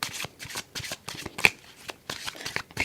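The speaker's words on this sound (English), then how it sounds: "from this deck, I'll be picking 8 cards because tarot I'll be using" A deck of tarot cards is shuffled in a quick run of crisp riffling bursts with short gaps between them, close up and with no talk.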